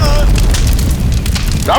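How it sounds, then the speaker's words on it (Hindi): An explosion blast in a Hindi TV crime drama, a loud, deep boom filling the clip with a rumbling roar and debris-like crackle, cut off by a brief sharp sound at the end. "धमाके की आवाज।"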